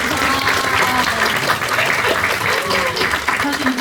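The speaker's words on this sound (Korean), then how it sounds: "저희 보고 계신 그 모든 분들을 향해서 같이 한번 박수 한번 칠까요?" Applause from an audience at a film screening and Q&A event, a dense, steady roar of clapping filling the room, loud and continuous from start to finish.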